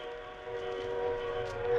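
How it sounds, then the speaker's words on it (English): An approaching train as a radio drama sound effect: a steady, droning whistle-like horn tone over a low rumble that grows slightly louder over nearly two seconds, with no voices. "A train. There's a train coming. It's coming toward me."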